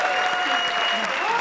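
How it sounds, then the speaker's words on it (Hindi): A studio audience at a comedy show grand finale breaks into brief, dense clapping, steady throughout, with a faint tonal voice or music underneath. "और जोरदार तालियां बजाइए हमारे 3 महा"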